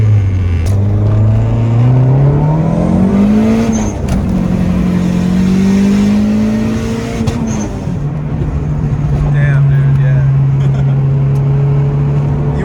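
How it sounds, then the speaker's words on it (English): Close, loud car engine running with ignition cut and fuel dump, holding steady revs with rising and falling pitch and sharp popping crackles scattered throughout, with faint voices in the background. "This here stuff is ignition cut with a fuel dump."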